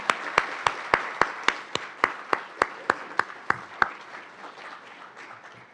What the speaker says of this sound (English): Please join me in thanking them, well, with another round of applause.